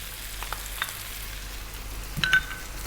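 Cooked spinach stirred into a pan of frying bacon for a creamy pasta gives a faint, steady sizzle, with a few soft stirring clicks and a brief louder scrape near the end.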